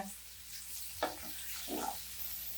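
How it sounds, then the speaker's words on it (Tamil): Tomatoes sauté in a pan with a soft, faint sizzle and a couple of brief stirring scrapes over a short stretch. "இது நல்லா தக்காளி வந்து நல்லா வதங்கட்டும்"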